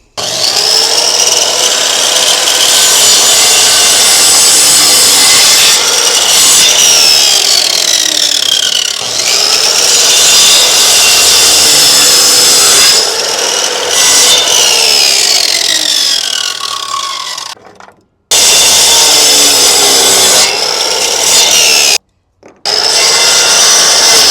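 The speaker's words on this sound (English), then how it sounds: "I'm out of wood chunks. Ugh. So we got to make some of our own. Got to protect the peepers. Got us some nice cherry wood." Cherry wood is sawn into chunks for a smoker with a power saw, a loud continuous rasping cut that runs with brief pauses and a couple of short silent breaks near the end.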